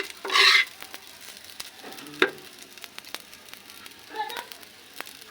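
Garlic fried rice and dried fish being stir-fried in a home kitchen, with a short burst of sizzling and scraping, a sharp clatter of the utensil against the pan, then another brief stir, fairly close and without talk.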